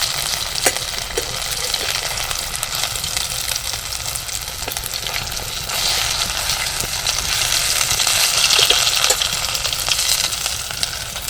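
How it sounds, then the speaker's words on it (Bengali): Constant hissing sizzle of paneer pieces frying in a pan, with occasional light stirring clinks, growing slightly louder toward the end. "এবার আমরা এটাকে উল্টে পাল্টে একটু ভেজে নেবো লালচে করে।"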